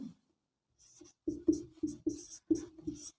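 Chalk or marker writing on a classroom board during a Hindi maths lesson, a string of short scratchy strokes in quick bursts, close and fairly clear, with no talk over it.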